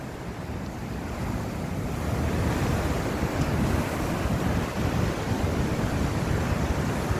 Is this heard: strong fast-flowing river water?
yes